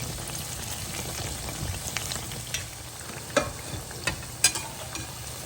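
Food fries in hot oil, a steady soft sizzle and crackle with occasional sharper pops and stirring clinks, close and fairly quiet, with no talking.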